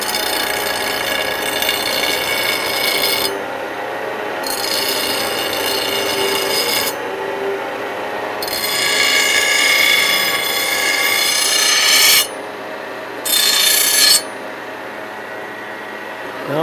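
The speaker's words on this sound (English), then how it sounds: "I have to take and round these edges here before I start." Steady rasping as the edges of a steel knife blank are rounded during forging, continuous scraping strokes in several long bursts with short gaps, close and loud.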